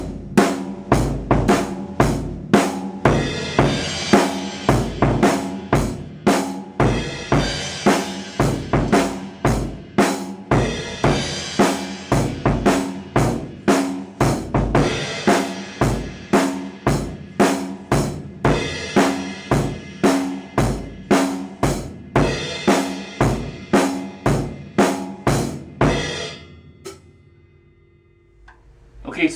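A drum kit plays a groove in 7 time, with sharp regular hits and cymbal wash repeating in an uneven loping cycle, loud and close, before it stops and a faint tail rings out.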